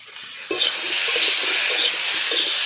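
Eggplant and potato fry in an open pan over a wood-fired clay stove, a sudden burst of steady loud sizzling starting half a second in and holding throughout, with faint stirring clinks underneath.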